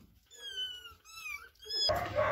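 Kittens give three high, drawn-out meows close by in quick succession, followed by a burst of rustling noise at the end.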